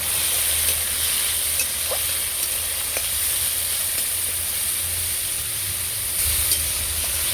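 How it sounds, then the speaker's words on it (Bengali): Shrimp drop into hot oil in a kadai, giving a steady, even sizzle with faint occasional ticks of stirring throughout, no voices. "তেল গরম হয়ে গেছে আমি চিংড়ি মাছগুলো দিয়ে দেবো হালকা করে নেড়ে দিয়ে"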